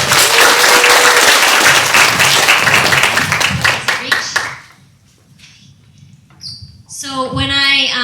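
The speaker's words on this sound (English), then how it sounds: "Wild applause!" An audience at a Korean American Studies dedication night applauds loudly for several seconds, the clapping fading to near silence before a voice speaks over renewed noise at the end.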